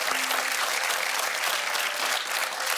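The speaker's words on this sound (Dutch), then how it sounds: "Geef hem een groot applaus" Audience applause at a Dutch lecture evening on science, loud, dense and continuous clapping from a large crowd filling the whole stretch.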